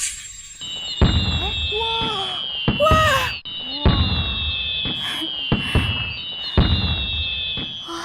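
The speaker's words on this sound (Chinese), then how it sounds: "这烟花秀也太震撼了，一辈子都没见过这么盛大的场面。" A large fireworks show over an island, with sharp booming bursts at irregular intervals, whistling and rising shells, and crackling between them, loud and close over a continuous high tone.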